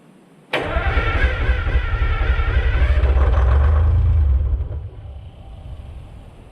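An American 25 excavator's diesel engine cranks on starting fluid, a sudden loud onset followed by several seconds of heavy rumbling churn that then drops away to a quieter fading tail.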